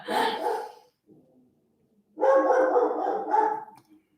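A dog barks in two bursts, a short one at the start and a longer run of close, fairly loud barks after a pause, alone with no talking.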